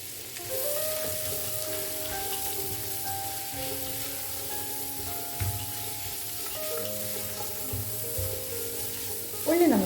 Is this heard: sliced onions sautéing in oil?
yes